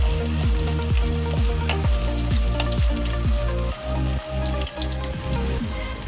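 Potatoes frying in hot oil with cinnamon, cloves, dried red chillies, bay leaf, salt and turmeric: a loud, steady sizzle close by, broken by rhythmic scraping strokes as the pan is stirred.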